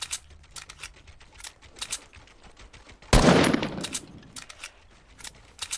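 Gunfire in a shooter video game: a rapid string of clicky mechanical sounds, then one loud burst of shots around the middle, followed by more light clicking.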